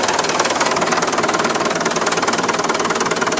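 A Fordson Major tractor engine runs steadily as the tractor is driven in gear, a loud, close, rhythmic knocking chug with a rattling vibration that continues without a break.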